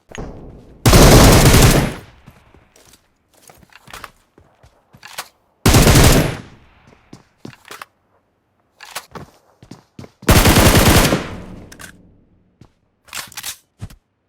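Automatic gunfire in a mobile battle-royale shooter rips out in three loud, sustained bursts about a second long each, separated by sparse single clicks, taps and footstep-like knocks.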